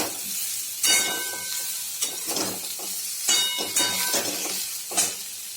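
Cluster beans sizzle and hiss in a hot pan while being stirred, with repeated scraping bursts of a spatula every second or so.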